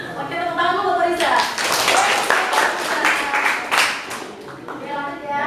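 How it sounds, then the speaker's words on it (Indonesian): Audience applause in an Indonesian classroom or workshop session, a burst of clapping rising after about a second and holding steady to the end, mixed with voices talking over it. "tepuk tangan dulu buat Riza."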